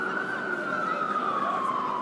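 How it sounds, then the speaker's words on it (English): Ambulance siren on a Times Square street in New York, a steady loud wail sliding slowly downward in pitch over continuous traffic noise, close by and unbroken throughout. "It's an ambulance."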